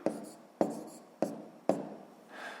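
Pen strokes writing numbers for a column subtraction problem in a sixth-grade math exercise: four crisp, close scratchy taps at a steady rhythm, followed by a softer rubbing stroke, with no talking.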